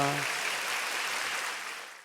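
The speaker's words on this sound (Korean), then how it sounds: "하나님께 다시 한번 영광의 박수 올려드립니다." Congregation applause in a Korean church service, a dense steady wash of many hands clapping at once, loud and sustained before tapering off at the end, with a brief voice-like tone at the very start.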